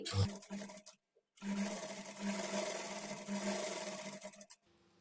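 A sewing machine stitching a blouse frill runs with a steady mechanical whir that cuts out briefly after a short burst, then resumes for several seconds before stopping; fairly faint and close.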